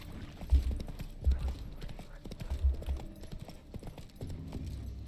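Hooves of Roach the horse in The Witcher 3, a muffled clip-clop of a few irregular steps, close and moderately loud, with someone talking briefly alongside.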